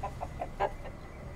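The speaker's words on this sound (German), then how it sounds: "Verfluchter Hahn." Rooster in the video game Living Legends 5: Beasts of Bremen, giving a quick series of about five clucks at an even pace, fairly clear over a low background hum.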